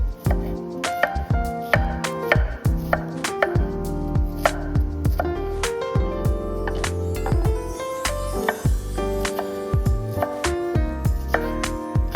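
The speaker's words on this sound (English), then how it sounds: "we'll go ahead and chop up these few veggies." Brisk knife chopping onion and green pepper on a cutting board, quick irregular thuds and clicks repeating steadily, close up, with no voices.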